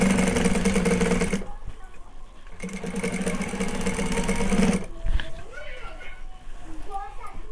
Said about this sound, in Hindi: तो ये आस्तीन पे मैं डबल सिलाई मार देती हूँ।